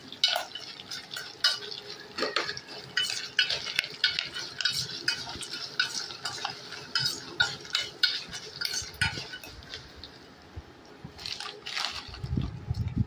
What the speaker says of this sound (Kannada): ಕರಿಬೇವು ಹಾಕಿದ ತಕ್ಷಣ ನನಗೆ ಪಟ ಪಟ ಅಂತ ಸೌಂಡ್ ಬರ್ತಿದೆ ಫುಲ್ಲು